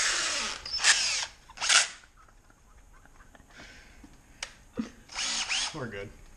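A power drill whirs in several short bursts, loud and close, with pauses between them and brief bits of talk near the end, during an axle seal replacement and hood pin install on a car.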